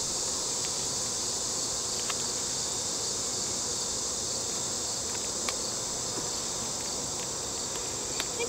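A continuous close hum of honey bees swarming around a hive being inspected, steady and loud throughout, broken only by faint ticks, with no speech.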